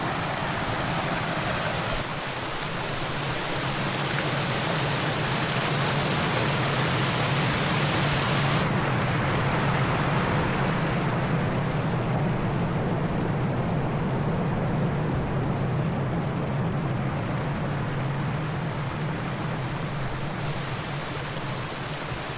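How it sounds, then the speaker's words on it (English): Small waterfall on Horton Creek near Payson, Arizona, pours over rocks in a dense, continuous rushing roar, close and loud, steady for the whole stretch with no voices. "The sound of the rushing water over the rocks was incredible."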